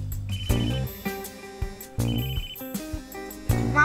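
A mobile phone rings with a bright electronic melody that repeats in short phrases of chiming tones, clear and fairly close, with no talking over it.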